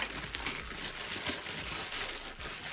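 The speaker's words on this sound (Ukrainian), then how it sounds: "Відкриваємо наступний пакет." A plastic parcel package from lost Ukrposhta mail being opened, with brief soft crinkling and rustling of plastic close by and no voices.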